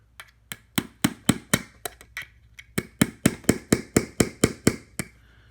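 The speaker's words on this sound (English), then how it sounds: "now you can just hammer the hook" Hammer striking a hook while building a cheap carpenter bee trap, a series of sharp taps that start sparse and irregular, then settle into a fast, steady run of close, crisp blows.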